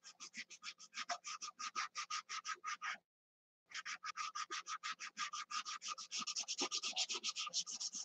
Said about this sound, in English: When you think you got it sanded, sand her again because you ain't done